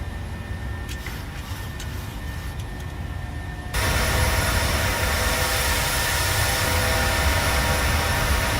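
PMDG 737-600 jet engines in Microsoft Flight Simulator roar steadily during the climb, first as a muffled hum, then suddenly loud and full after an abrupt jump in level, a continuous broadband rush with no talk.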